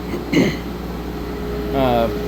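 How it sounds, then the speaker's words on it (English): A sawdust evacuation system on a Hud-Son HFE 36 sawmill runs as a steady, loud blower hum and rush, with someone talking briefly over it. "this is my sawdust evacuation system, and I'm going to shut it off"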